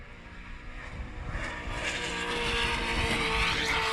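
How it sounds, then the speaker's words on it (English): A drift car slides sideways down the track during qualifying, its front tire skimming across the surface, with a loud roaring engine and a continuous tire hiss that rises steadily. "his car is so gripped up, his front tire was just kind of skirting across the ground there"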